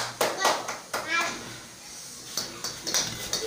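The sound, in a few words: clapping hands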